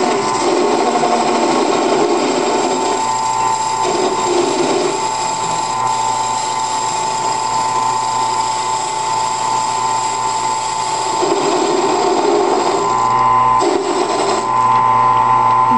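A 10 x 18 wood lathe converted for metalwork takes a heavy cut, giving a steady, loud machining whine with a constant motor hum that runs unbroken throughout, with brief rougher surges as the tool bites.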